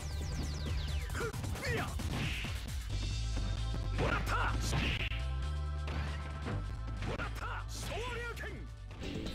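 Capcom vs. SNK running on a Dreamcast emulator on an Amazon Fire TV stick, with crackly, garbled game audio of hits, crashes and whooshes over a droning music bed, steady and moderately loud.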